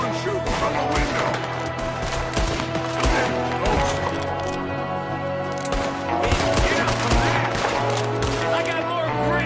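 Repeated gunshots and firefight noise from the video game Red Dead Redemption 2, dense and loud throughout, layered with game sounds and shouting voices.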